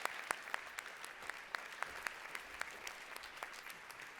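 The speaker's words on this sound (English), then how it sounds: "A big applause for her." A plenary audience at a library conference gives a warm round of applause for a speaker, steady crowd clapping with a few sharp individual claps standing out near the microphone, continuing evenly throughout.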